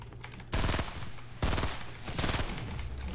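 Gunfire in the Fortnite video game: three loud bursts of rapid shots, each starting sharply and trailing off in about a third of a second, roughly a second apart, over steady game ambience with no talk.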